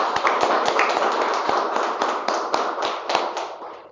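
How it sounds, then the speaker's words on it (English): A small audience at a college signing ceremony claps, sparse distinct hand claps over a softer clapping wash that tapers off within a few seconds. "Let's give him a big round of applause."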